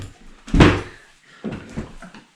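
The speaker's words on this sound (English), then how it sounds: "I just about slammed that chair on my foot." A chair is slammed down hard on a floor inside an abandoned building, giving one loud close bang followed by a couple of softer scraping knocks.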